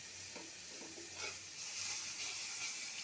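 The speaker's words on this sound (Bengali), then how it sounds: "রসুন বাটা, পেঁয়াজ বাটা দিয়ে মশলাটাকে ভালো করে কষিয়ে নিচ্ছি।" Spice paste of ground garlic and onion frying in a pan for a pabda fish curry, a steady soft sizzle and hiss with faint stirring scrapes, close and continuous with no talk.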